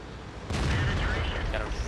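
A Type 59 tank's cannon fires in World of Tanks, a sudden loud boom that rolls into a long, dense rumble and fades unevenly over the next second and a half.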